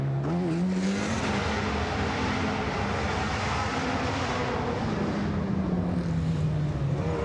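A Ferrari rally car on a forest rally stage, its engine roaring loud and continuous as it drives past, pitch rising and falling through gear changes and a jump.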